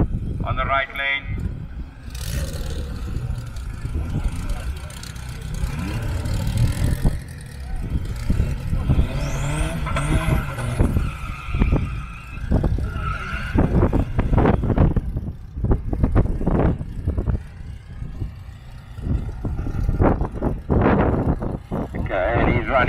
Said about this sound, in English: Running up against Mohammed on the left lane in the BMW. Some Ford power up against some BM power